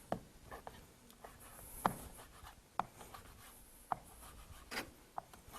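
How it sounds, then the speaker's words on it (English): Scissors snip through bacon over a cooking pot, a series of sharp, crisp cuts spaced irregularly about a second apart, close and fairly quiet, with no talking. "Just take your scissors and cut it right over the pot."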